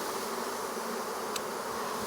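A swarm of honeybees clustered on tree limbs hums in a steady, even drone, close and unbroken, with no voices.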